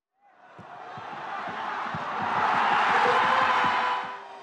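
Gyeongnam FC supporters at the Changwon Football Center home opener roar after the season's first goal, a crowd cheer that swells and holds over rhythmic drum-like thumps.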